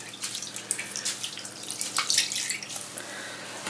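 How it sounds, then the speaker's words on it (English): Water is squeezed by hand out of freshly dyed yarn into a bowl, giving a close splashing trickle with scattered drips and spatters that rise and fall in uneven bursts. "I'm just grabbing the zip tie and I'll be squeezing out some of the water."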